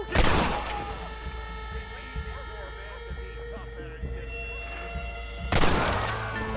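Gunfire in Red Dead Redemption comes as two loud bursts of rapid shots, one at the start and one near the end, with quieter distant crackles and a steady background hum between them.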